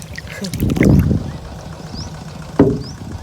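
A rowing boat paddled on a wide river: two distinct watery paddle strokes, a longer splashing swish followed by a sharper dip, close by over quiet outdoor background.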